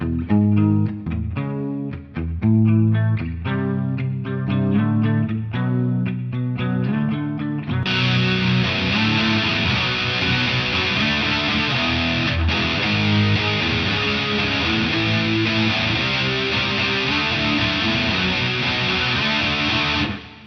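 An electric guitar played through a Mooer GE200 starts out with a cleaner, plucked riff, then the distortion overdrive comes on for loud, thick, sustained chords that continue to the end.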